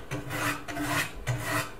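A kitchen knife drawn against the stone of a second-generation KMFS precision sharpener, giving three steady, close rasping strokes with brief pauses between them and no talk.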